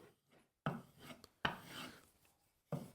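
Blade honed back and forth on a flat abrasive loaded with white compound, giving three separate rasping strokes, each a short sharp scrape that fades, with quiet gaps in between and no talking.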